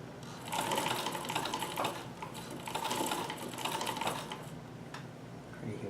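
A Davis vertical feed sewing machine stitches a zipper, its rapid mechanical needle chatter running in steady bursts with brief slowdowns between, close and alone.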